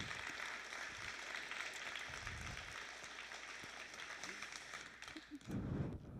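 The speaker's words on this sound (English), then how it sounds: "let's give Ronnie another big round of applause" Crowd applause for a fire academy graduate at a graduation ceremony, dense steady clapping filling the hall for several seconds, rising slightly toward the end.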